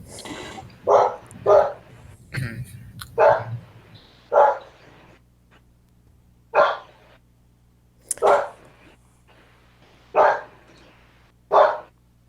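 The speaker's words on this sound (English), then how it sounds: "The dog raises an objection." A dog barks in a series of about ten sharp, loud barks, close by, spaced irregularly over several seconds with quiet gaps and a low hum underneath.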